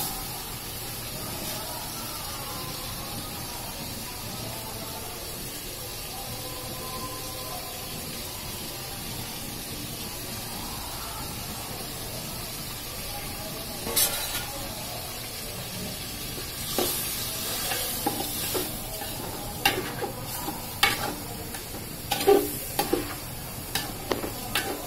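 Rice being stirred and fried with spices and raw carrot in a pan for egg fried rice, a low steady sizzle with scraping stir strokes growing busier and more frequent toward the end.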